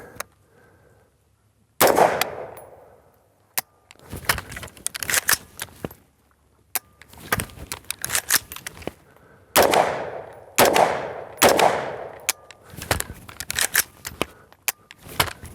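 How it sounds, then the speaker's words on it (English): Carbine fired during a tap, rack, bang malfunction clearing drill, several sharp loud shots spaced irregularly, some in quick pairs, mixed with metallic clicks and clacks of racking the action. "I'm gonna tap, rack, bang and try to get my gun up"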